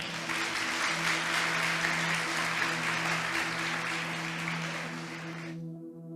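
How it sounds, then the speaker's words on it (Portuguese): A church congregation applauds together in a broad, steady wash of clapping that fills the room, holding strong for several seconds before cutting off abruptly near the end, with a low sustained tone underneath. "Você pode aplaudir a Ele por isso?"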